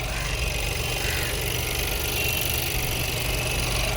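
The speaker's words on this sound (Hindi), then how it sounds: "कर दे भाई ऑन कर दे इंजन। तो भाई ये साउंड चेक कर लो भाई, साउंड के लिए ऑन करवाया मैंने।" A Volkswagen Virtus idles with its hood open, giving a steady, even engine hum and vibration that holds unchanged throughout, with no voices.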